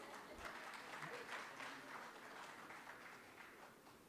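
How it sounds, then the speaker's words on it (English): Conference audience applause at a future-of-energy event, a steady wash of many hands clapping from a distance that holds evenly for about four seconds before tapering slightly, with faint voices mixed underneath. "Please give him a round of applause."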